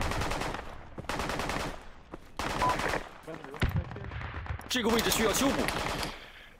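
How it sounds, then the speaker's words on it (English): Bursts of rapid automatic gunfire in the military shooter game Project Reality, loud repeated volleys separated by short pauses, ending in a dense, sustained exchange. "Someone's shooting at us."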